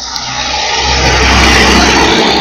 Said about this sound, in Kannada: ಇವರು ಬೈಕ್ ಓಡಿಸ್ತಾ ಇದೆ